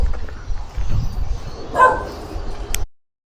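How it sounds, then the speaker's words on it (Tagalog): Several dogs at a resort bark and yip in short bursts, fairly close, with a louder whimpering bark near the middle over faint outdoor background noise. "Daming aso dito."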